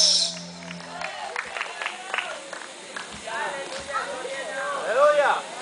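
A church congregation claps in rhythm during a lively Spanish-language worship song. The sharp, steady claps are mixed with singing and a speaking voice.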